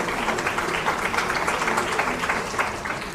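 Dense applause from an audience at a government ceremony in India, a steady wash of clapping that carries on evenly without pause and without speech.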